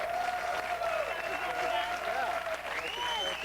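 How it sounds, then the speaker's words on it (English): A game show audience breaks into loud, steady applause, with cheering and voices mixed in over the clapping. "Give them a round of applause."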